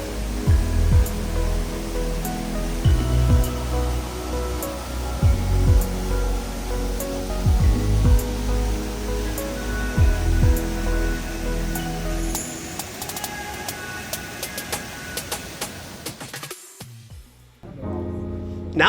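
Waterfalls plunge down thousand-foot cliffs in the Swiss Alps, giving a steady, broad rushing roar with faint clinks, interrupted by a few muffled knocks near the end.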